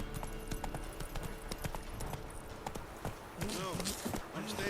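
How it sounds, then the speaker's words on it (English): Roach, a horse in the Witcher 3 video game, runs with rapid hoofbeat clip-clops under steady game music and ambience, while a voice speaks over it. "Run, Roach"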